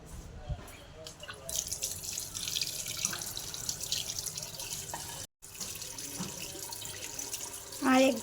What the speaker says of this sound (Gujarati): તો ચાલો પહેલાં હાથ ધોઈ લઉં.